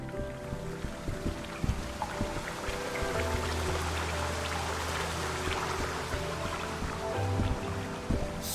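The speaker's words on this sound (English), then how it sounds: "If you approach a waterfall, the audio actually gets louder." A steady rush of a waterfall in the video game Hue fills the scene, broad and continuous, with a low hum and faint tones layered underneath.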